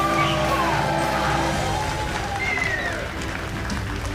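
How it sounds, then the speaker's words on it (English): Audience at the Texas Esports State Championship applauding, a broad, steady wash of clapping from a large crowd with scattered cheers and whistles, fading slightly toward the end. "if y'all could give him a round of applause"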